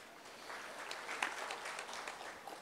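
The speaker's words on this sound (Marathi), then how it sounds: "आपण त्याचं सगळ्याचं स्वागत पण टाळ्या वाजून केलेलं आहे" Audience applause at a memorial lecture event: a soft, steady patter of many hands clapping at a distance, sustained and fairly even throughout, with no voices over it.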